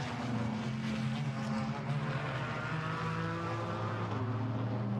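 GT4 race cars, BMW and Chevrolet, racing at the Nürburgring as they climb the hill toward the chicane, with a steady, loud, continuous engine roar and shifting pitch and no pause.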